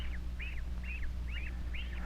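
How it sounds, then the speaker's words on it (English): Farm ducks with their ducklings at the water's edge give five short, evenly spaced quacks, faint and a little distant, over a low steady hum. "This is a baby duckling. He and the other ducklings are going for their first swim."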